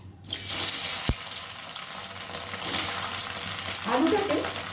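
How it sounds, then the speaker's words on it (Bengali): Diced boiled potatoes drop into hot oil in a pan with a sudden loud sizzle, followed by continuous frying hiss and a clink of a utensil against the pan. "বেশ ভালো করে একটু লাল লাল করে ভেজে নেব"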